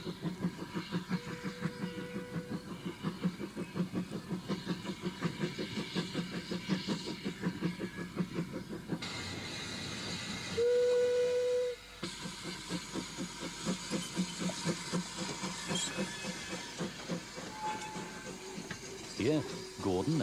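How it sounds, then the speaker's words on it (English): Steam locomotive number 22 climbs the lower part of an incline on a restored railway in North East England, with a steady rapid chuffing exhaust, hissing steam and a short whistle. "number 22 steams up the lower part of the east incline before turning off to the small platform at the end of the line"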